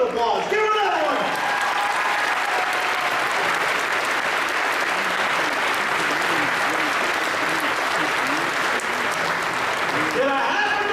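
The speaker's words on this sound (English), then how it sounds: "deserves 2 rounds of applause. Give her another one." A crowd at a 2013 HMS graduation ceremony breaks into sustained, dense applause that holds steady for about ten seconds before tapering off at the end.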